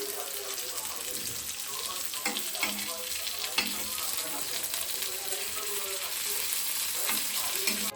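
Bangda mackerel coated in rava sizzles and crackles steadily in a frying pan at close range, a continuous hiss with occasional sharper pops and faint clinks, and quiet background voices underneath.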